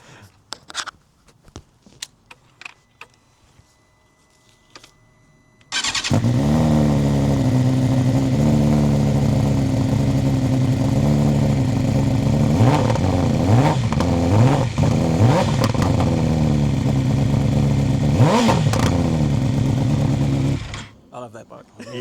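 An Italian motorcycle engine fires up after a quiet stretch with faint sounds, then idles loudly and revs in several rising bursts, close by, running steadily until it cuts off near the end.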